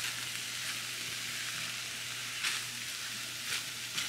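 Beef empanada filling seasoned with black pepper sizzles steadily in a shallow pan, a close continuous frying hiss with a few soft stirring scrapes and clicks, no talking.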